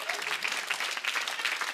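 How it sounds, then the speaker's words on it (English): A studio audience at a late-night comedy show claps steadily, with dense, even applause at moderate volume and no talking over it. "You're right to applaud."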